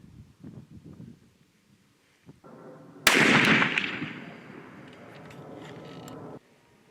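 A Hankins custom muzzleloader loaded with smokeless powder fires one sharp, loud shot that rings out and decays over a few seconds, after quiet handling sounds and a steady background hum.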